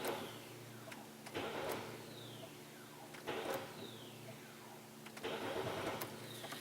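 A car's starter motor cranks in three repeated bursts, each whirring up and then winding down with a descending whine, close by and fairly quiet with no talk.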